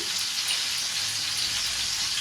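Salted potatoes fry in oil in a pan for restaurant-style stuffed aloo dum, producing a loud, continuous crackling sizzle throughout with no talking.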